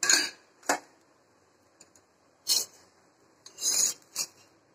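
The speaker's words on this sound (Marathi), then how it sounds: "तवा गरम आहे, त्याच्यावर टाकलाय बरं का पराठा" Oiled paratha cooking on a hot tawa: a few isolated metallic scrapes and clinks of a spatula against the griddle, close and crisp, separated by near silence with a faint background hiss.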